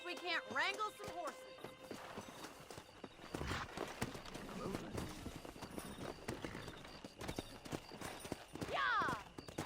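Horse hooves clip-clop in a Red Dead Redemption scene, with a horse whinny near the end and voices talking over the steady trotting.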